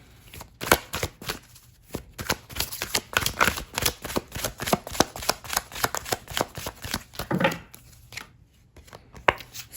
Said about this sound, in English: Let's pull a few oracle cards.